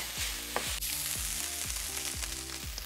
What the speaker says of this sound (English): Go ahead and stir as needed until the chorizo is fully cooked.